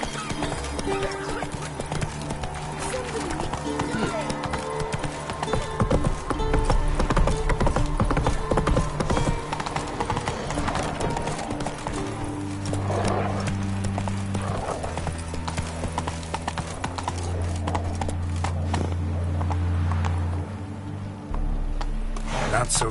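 Roach the horse galloping in The Witcher 3, with rapid rhythmic hoofbeat clip-clops and an occasional whinny, over music and game ambience.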